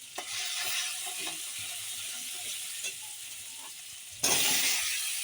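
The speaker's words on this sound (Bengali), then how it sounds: "সব মশলা একসঙ্গে ভালো করে কষে নিচ্ছি।" Turmeric, chili powder and onion paste frying together in a pan while being stirred, a continuous sizzle with scraping stirring strokes and a sudden louder burst of sizzling near the end.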